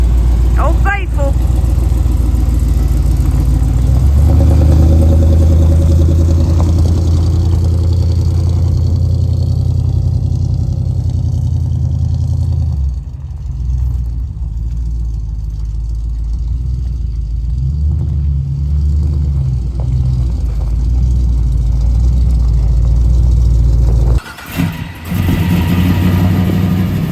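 A car engine runs with a steady, loud, low rumble after exhaust shop work, idling and revving a little, while voices talk over it throughout.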